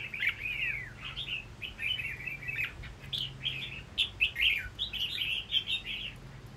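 A caged songbird of medium build, a competition bird tested against a lure bird, sings repeated bright warbling phrases close by, with short pauses between bursts over a faint low hum.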